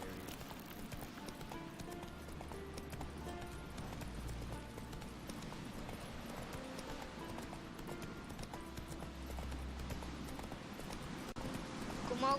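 A horse's hooves clip-clop in a quick rhythmic run across the ground in The Witcher 3, steady and continuous under a constant game ambience.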